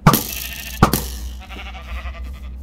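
Several sheep bleat in a dark forest in the MC Eternal Minecraft modpack, with two loud, close calls near the start and a softer, denser animal murmur after them, and no talk.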